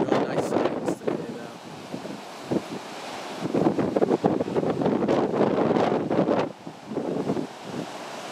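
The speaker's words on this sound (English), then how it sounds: "some days out here it gets pretty windy" Strong wind on the Bay Area coast near Manor Beach, Pacific, buffeting the microphone in loud roaring gusts over surf, with a brief lull in the middle.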